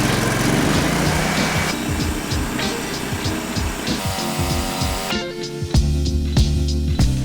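A tractor engine turns over and catches, then runs with a steady, loud mechanical drone and shifting revs, close by and with no voices.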